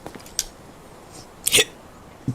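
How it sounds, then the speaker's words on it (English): Big in-game hiccups from a character in Sherlock Holmes Chapter One: a brief hiccup burst near the middle with a faint one earlier and another at the end, sitting over quiet background. "Oh god, got big hiccups."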